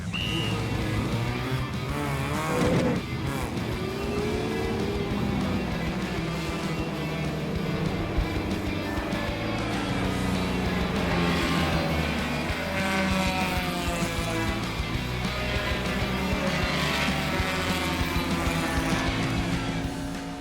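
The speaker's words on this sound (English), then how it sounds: "This is my car, and we are here to race." Race cars at a regional road racing event at Summit Point Motorsports Park rev and drone continuously at moderate level, with engine pitch rising and falling as cars pass.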